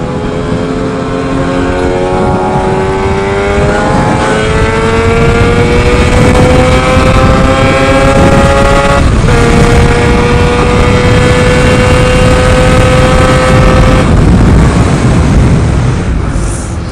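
Targa Twin 275 two-stroke engine cruising around town at steady revs around 4,000 to 4,500, a continuous loud droning buzz whose pitch rises and shifts slightly through gear changes, with no talking.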